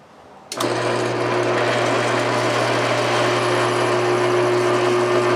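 A drill press starts up and runs with a steady motor hum, boring a hole in a motorcycle motor mount brace for a Yamaha WR250. Loud and close, with no voices over it.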